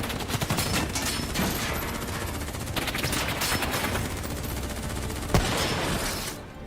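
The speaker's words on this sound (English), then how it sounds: "Who's shooting?" Sustained automatic gunfire from a Call of Duty: Black Ops 3 firefight, dense overlapping bursts of rifle and machine-gun fire rolling continuously at close range with one sharp louder shot near the end.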